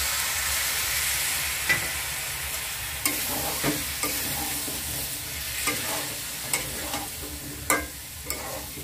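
Potatoes sizzling and being stirred in a pan while cooking down for aloo dum, a steady soft frying hiss broken by occasional clinks and scrapes of the spoon against the pan.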